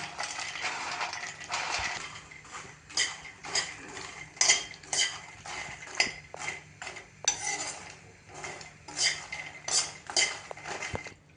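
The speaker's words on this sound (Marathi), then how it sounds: "आपले मखाणे भाजून झालेत, दाखवते तुम्हाला. हे बघा, आवाज ऐका. आणि छान असं फुटतोय" Fox nuts (makhana) roasting in a little ghee in a pan rattle and click against the metal in quick, irregular bursts, close and clear with no voices.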